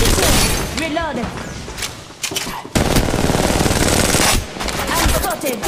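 Gunfire in the Apex Legends Mobile game: loud rapid automatic bursts, broken by a short lull and then more sustained firing, with game voice callouts mixed in.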